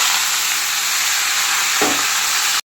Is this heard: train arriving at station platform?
no